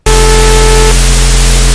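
Synthesized white noise shaped by a low-pass filter for a bass sound design patch, a loud, steady broadband hiss with a low-end rumble and some tonal hum, starting abruptly and sustaining for under two seconds.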